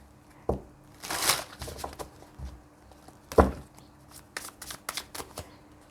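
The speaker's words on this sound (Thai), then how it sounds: "ทีนี้ขอสับไพ่" Tarot cards shuffled by hand in a few short riffling bursts, close and crisp, with quiet pauses between them.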